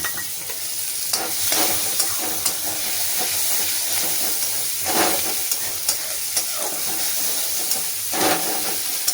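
Chopped onion sizzles and crackles in hot oil with nigella seeds, steady and close, with occasional scraping stirs and no voices.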